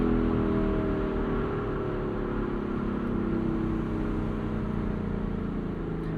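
A 2024 Lexus LC 500 convertible's V8 pulls steadily under acceleration in manual sport mode, with a continuous close engine drone and rising tones as the 10-speed gearbox shifts quickly.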